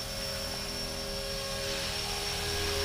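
A Blade 330s RC helicopter flies outdoors, its steady rotor and motor whine holding constant for the whole stretch at moderate distance, with no talking.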